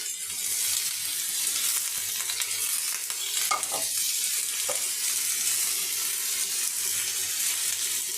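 Potatoes fry in a kadai, hissing steadily as they are stirred, with a few clinks and scrapes of the spatula against the pan rising over the continuous crackle.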